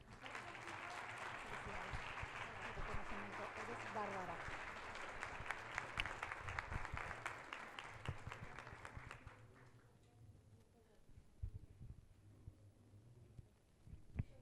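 An audience at an education conference in Guadalajara, Jalisco, on teacher stress and burnout claps in a dense, sustained round of applause. After about nine seconds it thins to a few scattered claps.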